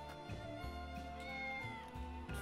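A cat meows in the video game Triangle Strategy: a few drawn-out, whiny meows over a steady, soft musical backdrop, fairly quiet and with no talking.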